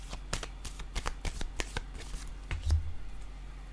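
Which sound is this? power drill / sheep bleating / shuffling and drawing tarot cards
shuffling and drawing tarot cards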